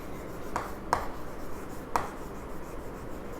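Pen writing on paper, soft continuous scratching with a few sharper taps, close up and steady, no voices over it.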